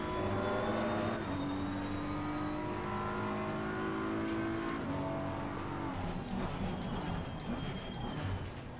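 Race car engine in Assetto Corsa Competizione revving steadily, pitch climbing through gears with shifts around one and five seconds, loud and continuous with no talk.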